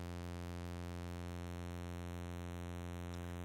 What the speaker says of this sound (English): when the resonance on the filter is high, it will self-oscillate, and this will actually create an additional sine wave.